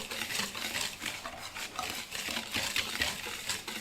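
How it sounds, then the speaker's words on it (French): A spoon stirs fine semolina, sugar, yeast, salt and orange zest together in a bowl, giving a steady run of soft scraping and clinking that goes on without pause and without anyone talking. "Je mélange."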